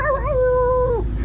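A voice imitates a dog with one drawn-out, howl-like woof that slides down at the end, heard up close over steady engine and water rumble aboard a ferry cruising Glengariff Harbour in Bantry Bay.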